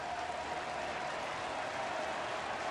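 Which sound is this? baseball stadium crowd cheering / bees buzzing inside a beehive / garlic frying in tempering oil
baseball stadium crowd cheering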